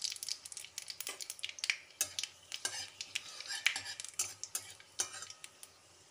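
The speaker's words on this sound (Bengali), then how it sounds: "তেলেতে দিয়ে দিচ্ছি আমি 5 ফোড়ন" Panch phoron five-spice seeds with a bay leaf crackle in hot oil, nearly drowned out by a metal spoon scraping and tapping the pan in quick repeated strokes.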